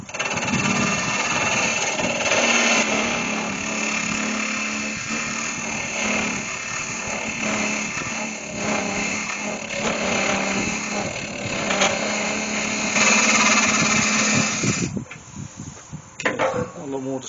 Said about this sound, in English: if I just tip the tool over about 30 degrees, that cuts so much better through there